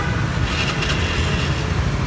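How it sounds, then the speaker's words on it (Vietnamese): A fuel-injected motor scooter's engine starts up and runs close by, giving a steady, loud low rumble with a fairly smooth, even tone. "Đây mình nổ máy cho các bạn."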